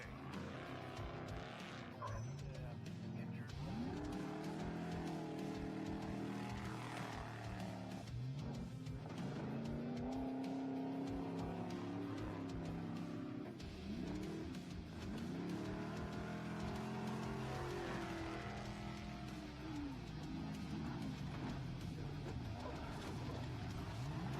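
Off-road race trucks in a SCORE desert race heading toward the summit and San Felipe, engines revving and shifting through sweeping pitch rises, loud and continuous over the whole stretch.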